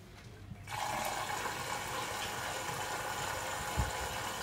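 Water rushes into a Bosch Serie 8 washing machine on a delicate/silk 40° cycle, starting abruptly and continuing as a steady, close hiss, with a soft knock near the end.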